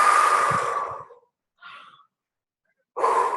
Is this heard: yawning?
yes